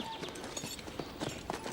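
Horses' hooves clip-clop in a quick uneven rhythm, faint and mixed with background noise, over a short moment.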